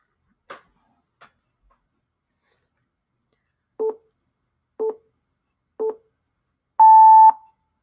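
Countdown timer: three evenly spaced short beeps, one per second, followed by a longer, higher final alarm tone, clean and close in an otherwise quiet room with a couple of faint clicks before.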